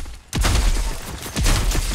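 Rapid bursts of gunfire in a ghost-hunting video game, a loud, dense volley of shots that starts abruptly after a brief quiet moment and keeps going with repeated sharp cracks.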